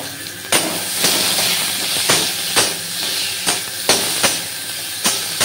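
Onion and chili paste sizzling in hot oil with nigella seeds, a loud close hiss punctuated by sharp clanks of a utensil hitting the pan at a steady rhythm.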